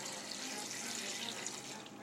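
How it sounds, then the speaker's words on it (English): Four cups of water poured into a cooking pot on a home stove, a steady, close splashing rush of liquid that runs continuously without pause. "I'm going to start with my four cups of water here. Just pour that right in."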